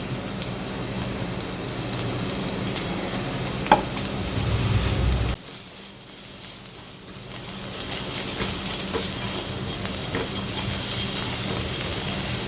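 Long-cut carrot strips fry in oil with a steady broadband sizzle, loud and close, briefly dropping out midway before the hissing returns stronger, with occasional stirring clinks.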